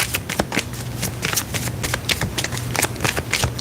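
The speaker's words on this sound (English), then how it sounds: "Shuffling for Virgo." Tarot cards are shuffled in a rapid run of crisp riffling and slapping bursts, close and steady, with a faint low hum underneath and no talking.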